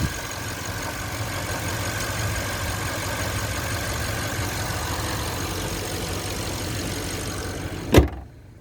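A 2012 Porsche Panamera Turbo S engine settled into a steady idle after its cold start, a low, even hum heard up close, ending in a sharp thump like a door closing.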